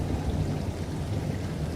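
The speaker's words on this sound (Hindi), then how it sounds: "कुछ दिनों बाद गांव में जोर की बरसात होती है।" Heavy rain falling steadily on a village, a dense continuous wash of water noise with no pauses, moderately loud and even throughout, with no voices present.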